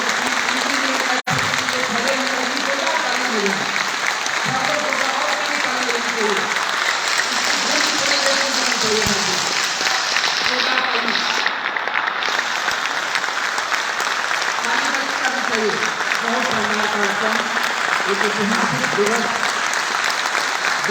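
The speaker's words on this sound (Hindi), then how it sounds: "एक बार बहुत जोरदार ताली बजाइए" Loud, sustained applause from a large crowd at the Vijay Sankalp Utsav political gathering in Banaras, steady clapping throughout with a voice briefly heard in the crowd.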